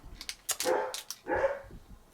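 Indoor dog barking nearby, a few sharp barks with short gaps between them, moderately loud with no talk over them.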